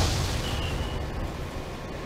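A train crash in the Roblox game Train Wrecker, involving a GP40 locomotive and an intermodal train, gives a loud, steady roar of crunching, rumbling noise. It holds for about two seconds with no clear breaks and no talking.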